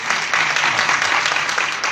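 An audience applauds at a kirtan with a brief, dense burst of many hands clapping together, steady and fairly loud for about two seconds.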